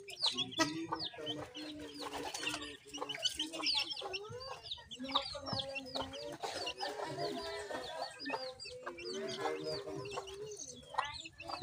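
Hens cluck and murmur continuously at close range in a provincial backyard in Batangas, with faint voices in the background.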